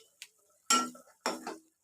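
A spoon stirs and scrapes through bisi bele bath in a cooking pot, with a light tap followed by two short, scraping clinks of metal against the pot, close and quiet with no talking.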